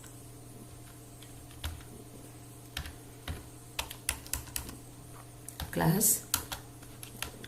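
Keys clack on a computer keyboard in short scattered bursts of typing, fairly close and quiet, with a faint steady hum underneath and a brief louder rustle near the end.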